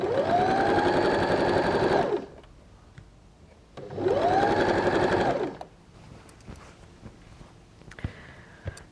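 A sewing machine hems doll's shorts in two steady whirring bursts of about two seconds each, close and loud, separated by a quiet pause with small handling clicks.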